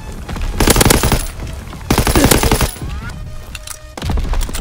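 STG44 rifle in Call of Duty, Haywire II variant, firing three loud, close automatic bursts of rapid shots, each about a second long, separated by short pauses filled with quieter game sounds.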